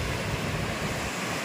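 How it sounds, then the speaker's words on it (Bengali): Rough morning sea surf seen from atop an embankment on Mousuni Island, a loud, continuous broadband roar of breaking waves with wind buffeting the microphone, steady throughout with no voices. "দেখুন সমুদ্রটা সকালবেলা কত উতাল একদম।"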